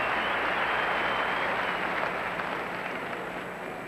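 Sustained applause from a large arena crowd after the Duchesnays' tango original set pattern ice dance at the 1988 Calgary Olympics, dense and steady throughout, tapering slightly toward the end.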